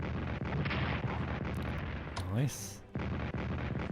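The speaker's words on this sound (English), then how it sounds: "So we're going to throw a bit of artillery in first." Artillery bombardment in the strategy game Strategic Command World War 1 produces a rolling rumble of booms and blasts with a sharper sweeping burst partway through, while a voice speaks a single word.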